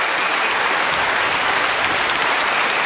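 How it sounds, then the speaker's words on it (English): A snooker crowd at the final of the Paul Hunter Classic, a European Tour event, applauds at length, with steady, dense clapping that stays loud and even throughout, with no one speaking. "the crowd rise to applaud him"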